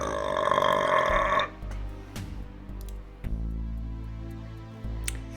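Drinking Pepsi brings on a string of loud, close burps, one long belch opening and a few more following at uneven intervals with no talk.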